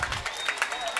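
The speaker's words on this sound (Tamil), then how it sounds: "மாணவ மாணவியர் கரகோஷம் எழுப்பி மாணவிகளை உற்சாகப்படுத்தும்படி கேட்டுக்கொள்கிறேன்." Students clap at a school sports day for kindergarten and primary pupils, a patchy scatter of hand claps rising and falling in uneven bursts across the schoolyard.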